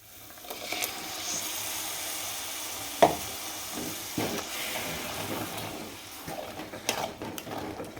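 Ingredients for a carp fish curry sauté in a pan with a soft continuous sizzle, broken by occasional clinks and scrapes of a spoon stirring against the metal.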